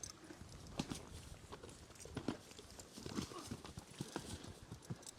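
Horses walking at a nomad camp in Mongolia, hooves clip-clopping in an irregular series of soft, fairly quiet knocks over low outdoor background noise.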